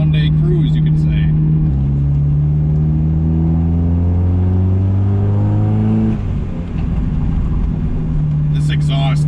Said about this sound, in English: This exhaust barks.